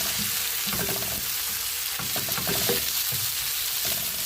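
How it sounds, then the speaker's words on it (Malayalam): Chopped tomatoes stirred and sautéing in a pan for a sardine curry, a constant close sizzle with the soft scrape and clatter of a spoon moving the pieces around. "അരിഞ്ഞു വെച്ച് തക്കാളി ഇട്ട് കൊടുക്കാം. നന്നായിട്ട് ഇളക്കി കൊടുക്കാം. തക്കാളി ഒന്ന് വഴലട്ടെ."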